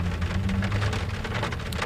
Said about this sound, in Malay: hujan turun dengan lebat